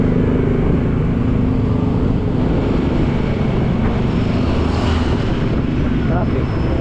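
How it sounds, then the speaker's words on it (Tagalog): Steady, loud road traffic heard while riding a motorcycle, a dense continuous roar of engines and wind close by with no clear breaks. "Traffic."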